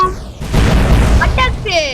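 A bomb explodes in the video game Roblox, a loud, close booming burst that swells and fades over about two seconds, with synthetic game tones sweeping in near the end.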